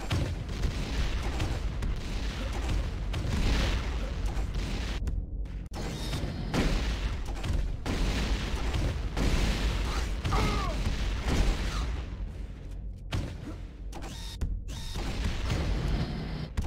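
A grenade launcher fires repeatedly in a first-person shooter, with dense booms and mechanical clanks layered over loud, busy game noise and a few sharp gaps in the mix.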